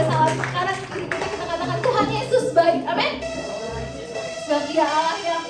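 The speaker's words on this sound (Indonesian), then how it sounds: "Bapak Ibu kita boleh berikan tepuk tangan sorak-sorai buat Tuhan Yesus" A church congregation claps and cheers together, a dense close stretch of rhythmic clapping mixed with shouts and raised voices, with music tones running underneath throughout.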